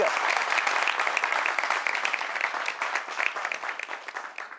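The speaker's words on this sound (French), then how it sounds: "Applaudissements pour vous-même, chers amis du public." Studio audience applause on a talk show, loud and continuous clapping from many hands that gradually thins out and fades toward the end.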